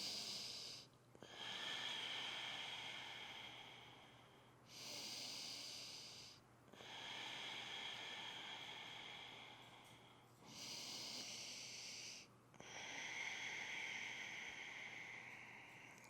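Slow, hissing Ujjayi breaths drawn through a constricted throat during a yoga pose, four long airy strokes with short pauses between them, close and fairly quiet over a faint low hum.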